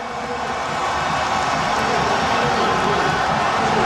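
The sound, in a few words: stadium crowd applauding substituted football player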